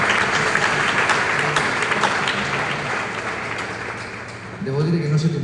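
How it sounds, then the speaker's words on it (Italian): A church congregation in a parish gathering applauds steadily, a dense wash of many hands clapping that fades slightly before swelling again, with a low voice or murmur rising near the end. "Facciamo un applauso."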